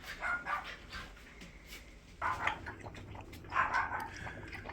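A puppy whimpers and yips in a few short bursts, close by and fairly quiet, with soft high cries separated by brief pauses.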